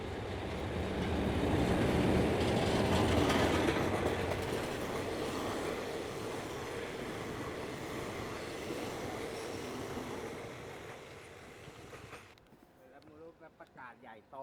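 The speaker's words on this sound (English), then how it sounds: "Woo woo, train coming." A train rumbles past loudly over a railway crossing in Bangkok with rushing mechanical noise that gradually fades, leaving quieter outdoor sounds.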